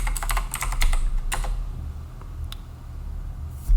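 Computer keyboard typing a login password, a quick cluster of close keystrokes followed by a few isolated taps over a low background hum.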